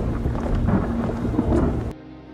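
A loud, dense downpour hisses steadily while a low rumble of thunder runs under it, then cuts abruptly to quieter ambience as rainwater floods an enclosed place.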